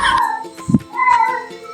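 Two short meows from a cat in an old haveli, heard close and clear with a brief thud between them.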